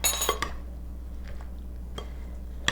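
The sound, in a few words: big spoon mixing bruschetta topping in a bowl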